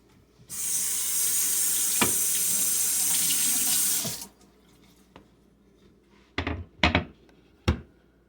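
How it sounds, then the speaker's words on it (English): Kitchen tap running into a sink for about four seconds as a knife is rinsed before cutting bananas, close and steady, followed by a few short knocks and clatters. "Just going to rinse this off."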